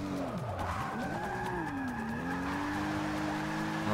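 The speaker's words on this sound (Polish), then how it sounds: "Po prostu trzeba ten drift zrobić na czysto." A car drifting in the racing video game Forza Motorsport 6: Apex, with tires squealing and skidding in a long, sliding, pitch-bending wail over a steady engine drone.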